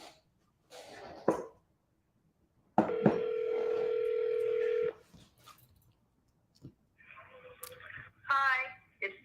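A telephone call being placed: a steady electronic dial tone holds for about two seconds, followed by faint tones and brief ringing sounds, with quiet pauses in between.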